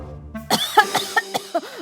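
A mother-in-law coughs loudly after drinking tea salted instead of sweetened, a burst of harsh, rasping coughs and throat-clearing heard close and alone, fired in a quick irregular series of about six spasms.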